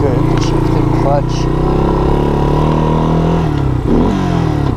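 A Yamaha DX225 ATC three-wheeler with Scorpion tires and an automatic clutch runs its engine loud and close, a steady droning buzz with a brief dip and recovery near the end, while someone talks over it.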